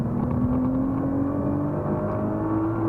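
A Nissan GTR accelerates on a race track with a steady, loud engine drone that rises slowly in pitch, heard from inside the car with no talk.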